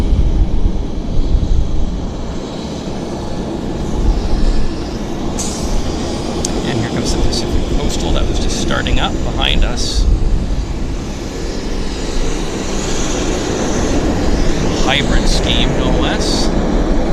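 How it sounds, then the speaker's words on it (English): A business jet at Vancouver airport produces a broad, steady roar that carries evenly through the whole stretch, with brief higher tones and faint voices or radio chatter underneath. "bizjet coming our way too."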